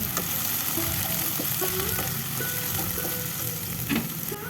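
Onions sautéing slowly in a pan for a simple Kerala tomato curry, giving a continuous close sizzle with light scraping and stirring clicks throughout, no voices.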